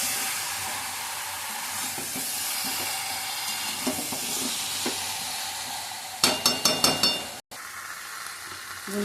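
Mutton pieces being stir-fried in spice masala for kosha, a steady close sizzle and scraping throughout, with a brief burst of sharp clattering strokes near the end and a momentary cutout.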